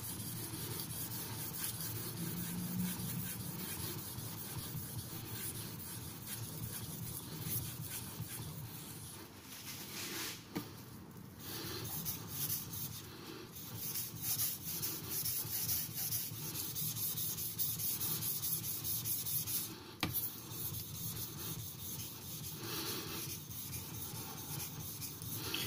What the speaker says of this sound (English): Building a slurry. Grinding down the burr